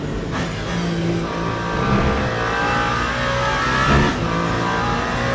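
LMP2 race car engine in the Le Mans Ultimate racing game, a steady loud high-revving drone with harmonic whine, shifting pitch as it climbs through gears and lifts briefly around the S-curves, another car's engine blending in.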